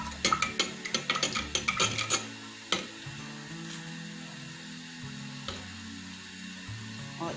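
Garlic fries in hot oil and is stirred, with a rapid run of clicking spoon scrapes at first, then slower knocks over a low, steady sizzle.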